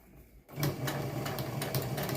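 A sewing machine starts up and runs steadily, stitching a fabric face mask with a close, rapid mechanical whir and rhythmic needle clatter after a brief quiet moment.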